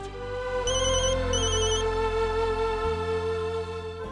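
A telephone rings with an electronic ringtone, bright repeating tones over a low sustained musical drone, loud and close, with no one speaking.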